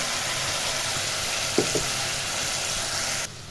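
Mustard-poppy paste and chopped tomatoes frying in a pan for an okra curry, giving a steady, close hiss of sizzling with a couple of soft stirring knocks before the sound cuts off abruptly near the end.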